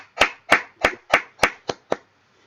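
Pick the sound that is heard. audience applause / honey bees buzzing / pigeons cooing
audience applause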